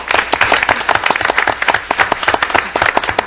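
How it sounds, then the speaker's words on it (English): At a city council meeting in Coolidge, Arizona, a roomful of people gives a round of applause. The clapping is moderately loud and a little uneven, with distinct hand claps audible throughout the short burst. "we just wanted to give you guys all a big round of applause"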